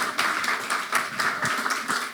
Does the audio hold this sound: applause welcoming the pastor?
yes